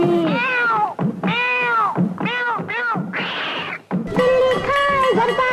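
Cat-like meows sung within a Hindi children's song about a cat coming out of a letter, several rising, wavering calls in quick succession over music, loud and close.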